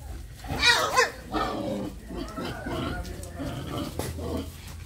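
Pigs on a farm grunting and squealing close by, a couple of loud squeals early followed by steadier grunting, with people talking over them.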